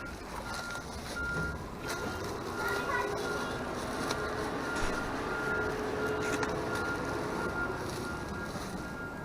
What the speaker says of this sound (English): I'll run to the trash truck.